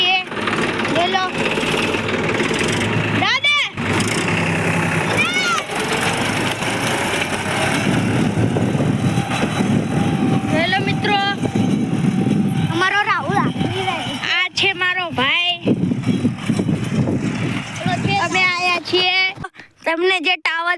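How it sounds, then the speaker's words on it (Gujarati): A Massey Ferguson 246 DI tractor with a cultivator attached works a field, its engine chugging steadily under nearly constant nearby talking. "મારું ટ્રેક્ટર જોઈ લો, મેસી ફર્ગુસન 246 ડાયના ટ્રેકનું તમે જોઈ શકો છો"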